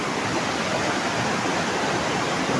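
A nearby river roars steadily, a loud dense rush of water like a waterfall filling everything evenly, with no pauses or voices.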